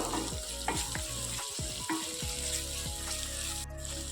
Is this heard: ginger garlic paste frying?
yes